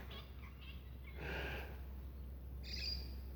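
Birds call faintly outdoors, a few short chirps and a brighter whistle near the end, over a soft steady background hiss.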